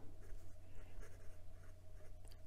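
A fountain pen with a medium steel Bock nib scratches across paper in faint, quick strokes, with a soft papery texture and a few short scribbles over a quiet background hum.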